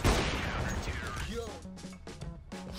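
Gunfire in a CS:GO pistol round, a loud shot at the start followed by several sharp pops and metallic game sounds, with a voice speaking over them.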